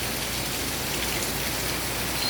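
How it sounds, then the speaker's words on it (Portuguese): Heavy rain pouring down in Pernambuco, Brazil, a steady dense hiss of water falling close by with no let-up across the whole short stretch. "Muita chuva em Pernambuco."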